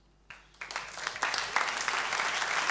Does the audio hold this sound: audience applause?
yes